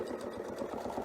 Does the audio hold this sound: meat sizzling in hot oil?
no